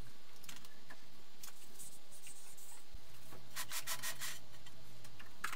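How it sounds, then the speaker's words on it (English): Water rocket parts for a two-stage rocket booster are hand-sanded before gluing: close, raspy rubbing strokes in an irregular rhythm, with brighter scratchy passes toward the end and no talking. "We sand and clean the surfaces to be glued"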